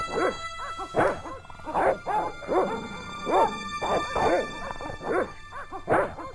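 In the video game Broken Sword: The Shadow of the Templars, dogs bark over and over, close and loud, a steady string of sharp woofs and yips with short gaps between them.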